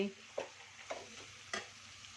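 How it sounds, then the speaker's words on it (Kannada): Quiet sizzle of drumsticks (moringa pods) frying in oil, punctuated by three distinct spatula scrapes at uneven intervals; no talking. "ನೋಡಿ, ಸ್ವಲ್ಪ ಇದರಲ್ಲೇ ಫ್ರೈ ಆಗಲಿ"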